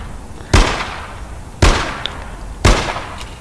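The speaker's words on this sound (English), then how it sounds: "So there's a lot of gunfire." In the video game APB Reloaded, three loud gunshots ring out about a second apart, each a sharp crack trailing into a short echoing decay.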